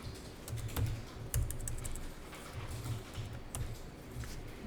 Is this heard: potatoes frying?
no